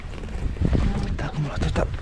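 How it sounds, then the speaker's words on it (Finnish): Wind gusting over Lake Kitkajärvi's open water during net fishing from a boat, a rough rumbling buffet on the microphone that continues under someone talking. "Katsotaan tätä tuulta nyt, että taas meinaa vähän niin kuin yltys."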